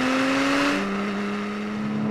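A Porsche Cayman sports car engine holds a steady, droning note that drops slightly in pitch partway through, loud and close with no voices.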